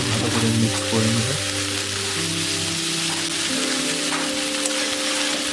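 Dried chilli, cumin, green chilli and ginger paste fry in oil in a kadai for ghugni, giving a steady hissing sizzle under sustained background music.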